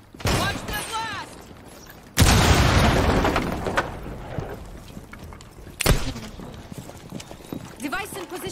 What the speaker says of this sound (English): Watch the blast!